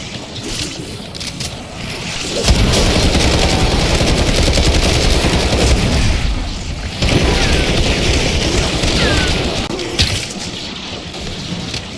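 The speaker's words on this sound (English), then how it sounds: "That's a lot of bullets killing in there." Dense, loud machine-gun gunfire in Black Ops 6 Zombies, sustained rapid bursts with booming impacts that roar on for several seconds, dip briefly, then resume at full intensity.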